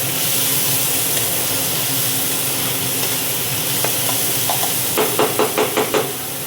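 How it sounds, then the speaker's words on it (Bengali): Chopped onion sizzles and hisses steadily in a hot pan, with a few sharp knocks of a spoon against the pan near the end. "এর মধ্যে দিয়ে দিচ্ছি চপ করে রাখা পেঁয়াজটা। এটা ভালো করে ভেজে নেব।"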